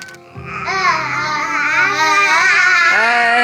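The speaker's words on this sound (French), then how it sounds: "Je sais pas si vous entendez les deux gamins" Two small children cry and shout loudly at close range, their wailing voices overlapping without a break.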